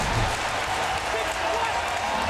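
A stadium crowd at a CFL football game between the Winnipeg Blue Bombers and the Saskatchewan Roughriders roars and applauds in a dense, continuous wash, with an announcer talking over it.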